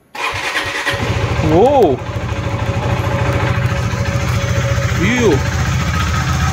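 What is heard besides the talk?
KTM 390 Adventure motorcycle engine starting and idling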